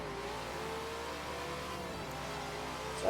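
A car in the racing game Forza Horizon 4 accelerating on a straight road, its engine a steady, even mid-pitched drone that rises sharply right at the end, with no one talking.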